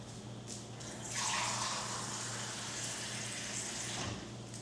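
Water poured from a cup into a diluted hydrogen peroxide solution for soaking protea seeds, a soft steady splash and trickle that swells after a quiet start and fades near the end.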